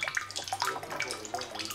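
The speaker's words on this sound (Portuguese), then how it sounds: "obter água pura enchendo uma garrafa de Coca-Cola ou quase 1 litro de água por minuto" Water pouring steadily into a Coca-Cola bottle from a purification system in Nigeria, a continuous close splashing fill with faint dripping, no talk.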